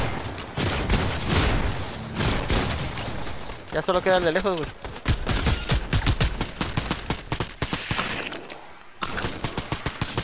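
Rapid bursts of Fortnite gunfire crackle throughout, dense and loud, with someone talking briefly in Spanish over the shooting.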